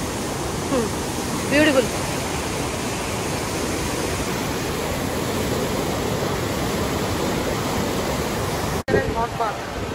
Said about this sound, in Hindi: पानी है यकीन मानो, और ये गर्म पानी है